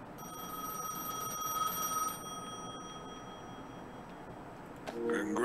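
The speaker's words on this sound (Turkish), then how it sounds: "Şurada bir telefon çalıyormuş." Telephone ringing in the Gas Station Simulator video game, a steady electronic ring tone held over low room ambience, fairly quiet and continuous, with a voice and game sounds breaking in near the end.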